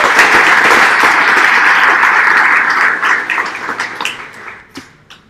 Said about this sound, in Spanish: Recibamos entonces a Amado con un aplauso inmenso.